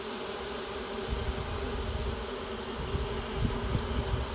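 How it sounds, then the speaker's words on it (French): Honeybee swarm buzzing as the bees move into a small cardboard box set on a slab outdoors, a steady dense hum with low rumbling bumps and handling noise, no talk. "Et voilà, les abeilles rentrent toutes seules dans le carton."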